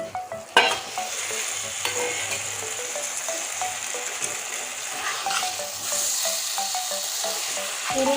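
Boiled taro goes into fried masala in a pan and is stirred, giving repeated close scraping and clacking of a spoon over a steady low sizzle, with no voices.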